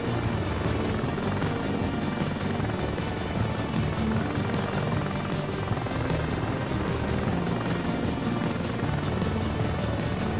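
Steady, dense rotor and engine drone from a helicopter flying in the tactical combat video game Heliborne, loud and continuous throughout with no speech over it.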